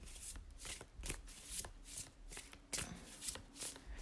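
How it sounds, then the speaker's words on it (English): A partial deck of oracle cards is shuffled by hand, a quiet, close riffling with repeated soft bursts of card edges slapping together, heard alone. "I'm not shuffling a full deck here because I see some of them are in a rubber band"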